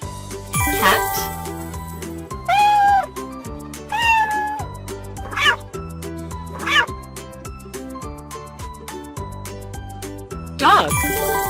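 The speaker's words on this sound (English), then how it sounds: "Cat." A cat meows over steady backing music with rhythmic bass and percussion, several separate meows spread through, each rising and falling in a wavering tone, close and clear.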